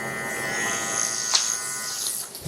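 Electric hair clippers buzz steadily at close range while cutting a drop fade, with a high whine throughout and a brief louder scrape near the middle.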